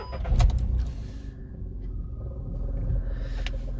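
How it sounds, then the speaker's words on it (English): A white 2013 Volkswagen Up White Edition with a 1.0 engine cranks and fires with a loud rumbling burst, then settles into a steady, even idle close by. "We'll start the car up."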